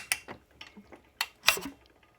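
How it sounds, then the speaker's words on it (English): The auto decompression lever on a Honda CRF250R dirt bike engine clicking as it is turned over by hand: a handful of sharp, close metallic ticks at irregular intervals in a quiet room. "It's just the sound of the auto decompression lever working."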